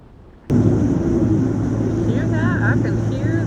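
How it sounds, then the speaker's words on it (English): A loud, steady engine roar starts abruptly and holds on while cruising the Intracoastal Waterway, with a person talking over it. "I can hear that engine roaring."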